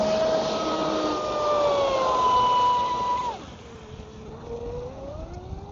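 A ProBoat SonicWake 36 V2 RC boat's electric motor whines loudly on the water, rising and holding in pitch, then dropping sharply as the throttle eases into a quieter, wavering hum.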